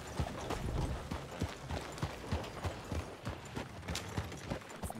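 Horse hooves clip-clop in a steady, even rhythm while riding in Red Dead Redemption 2, the muffled beats close and regular over a quiet background.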